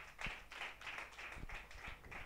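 A church congregation clapping their hands in a steady rhythmic beat, about four claps per second, sounding even and moderately faint as a massed group.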